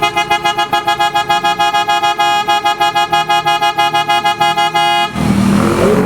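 A Chevrolet Colorado's PIAA horn blares in a rapid, pulsing stream of loud repeated toots for about five seconds, then cuts to a rougher, noisier blast.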